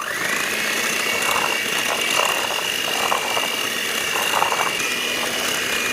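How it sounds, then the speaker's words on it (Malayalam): An electric mixer beats cream with mango puree, a steady close motor whine with a sustained tone and a faint rattling churn throughout, loud and continuous with no talking. "ഇതിലോട്ട് നമ്മൾ നേരത്തെ തയ്യാറാക്കി വെച്ചിട്ടുള്ള മാങ്ങയുടെ പ്യൂരി ചേർക്കാം നമുക്കിതിനെ വീണ്ടും ബീറ്റ് ചെയ്യണം"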